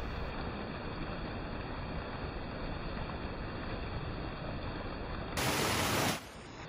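Steady, dense rushing water roars continuously like a distant cascade, an even hiss of a jade-colored waterfall in Samcheok, South Korea, with a brief brighter surge near the end.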